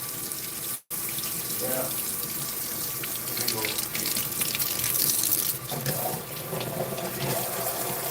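Water running steadily from a tap into a sink, a continuous loud rushing splash that lasts throughout, with a brief word spoken once over it.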